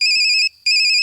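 A phone rings with a bright, loud electronic ringtone, two close tonal bursts split by a short gap, heard alone.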